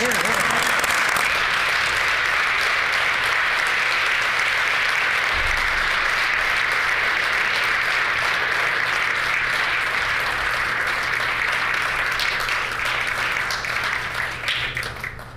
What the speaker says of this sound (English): Let's raise our voices and applaud.